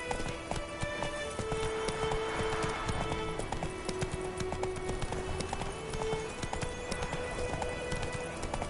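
A horse gallops in The Witcher 3 video game with steady, rapid clip-clop hoofbeats that continue throughout over a dense game soundscape, with faint background voices.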